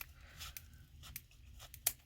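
Scissors make a few quiet, close snips while trimming a printed skeleton leaf craft, with soft paper rustling between cuts.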